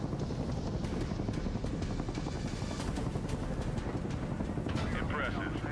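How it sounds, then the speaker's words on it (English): A helicopter in the Battlefield 6 battle royale game roars as a steady, loud rotor-and-engine rumble throughout, with gunfire-like bursts and voices talking over it. "Watch for helo coming out of that smoke."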